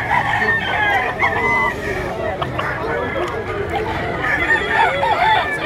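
Roosters crow and cluck repeatedly at a busy poultry market in Lipa, Batangas, under constant crowd babble and nearby talking.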